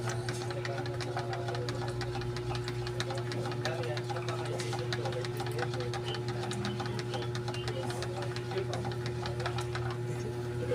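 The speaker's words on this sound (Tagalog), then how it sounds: "Sapat natin dito sa electric fan." An electric fan runs indoors during home treatment for a dog, giving a steady, continuous whirring hum with a low motor drone throughout, while people talk faintly over it.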